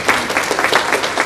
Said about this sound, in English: I think you all ought to give yourself a round of applause